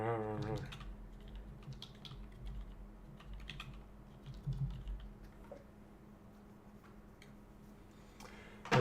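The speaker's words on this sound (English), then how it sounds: "I've been typing the Wealth of Nations and I'm doing it faster than I'm doing monkey type" Someone types quickly on a computer keyboard, producing a steady patter of quiet, close-up key clicks with occasional louder taps over faint background hum.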